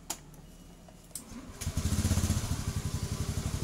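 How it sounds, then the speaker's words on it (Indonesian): Honda Beat injection motorcycle engine starting: a faint click and starter whir, then the small engine catches and settles into a fast, even putter, close and fairly quiet, with no talk. "Oke, kita akan coba hidupkan lagi nih."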